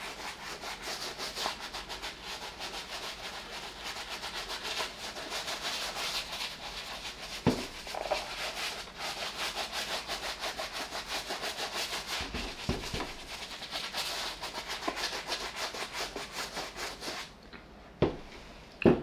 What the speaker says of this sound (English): We're going to work it in with the soft bristle brush.